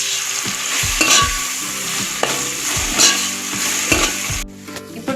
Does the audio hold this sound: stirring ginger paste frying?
yes